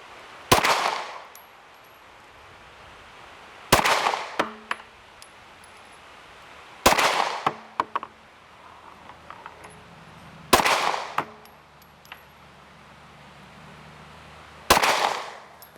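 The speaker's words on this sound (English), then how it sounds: "that's 5 rounds right there, fired from 25 yards" Five separate handgun shots from a carry pistol fired at a target 25 yards away, each a sharp loud crack spaced about three seconds apart, with quiet range ambience between them.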